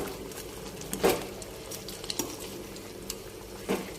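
Chicken curry being stirred in a pan that has released its own water, with soft scraping and wet stirring sounds over a low simmer, a few louder strokes standing out.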